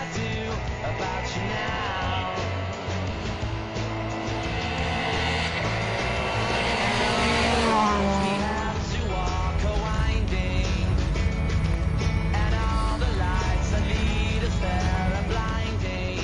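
A Renault Twingo R2 rally car engine is pushed hard on a stage, revving and rising in pitch through quick gear changes, loud and continuous with a rough, buzzing edge.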